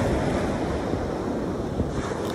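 Water waves wash and churn in a constant loud surging rush, with wind buffeting the microphone throughout and no voices.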